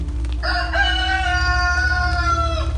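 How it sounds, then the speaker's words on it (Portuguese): A rooster crows in a staged Passion of Christ play, one long sustained cock-a-doodle-doo heard clearly and close over a steady low hum. "E neste momento, canta o galo."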